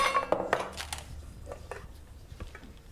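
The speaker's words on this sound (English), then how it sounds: "I'm just gonna pat it right into the pan." Shortbread dough is patted by hand into a 9 by 12 baking pan, giving soft thuds and light metallic knocks of the pan that fade into quieter taps, with no voices over them.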